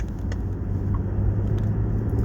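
A car drives along a road and turns, giving a steady low engine and tyre rumble from inside the cabin, with no talking.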